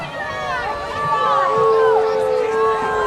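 A high school football crowd at Sabino vs Coolidge reacts to a personal foul penalty, a rising murmur of shouts and jeers, loud and close, with voices talking over it.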